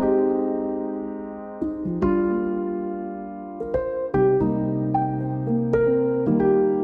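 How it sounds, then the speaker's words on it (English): A piano plays a slow series of sustained chords, each change struck clearly and ringing out, calm and close with no voices. "But you could hear on its own, this piano sounds like this."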